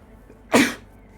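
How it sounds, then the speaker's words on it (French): One sharp sneeze bursts out close and loud in a quiet room, fading quickly. "Après avoir éternué."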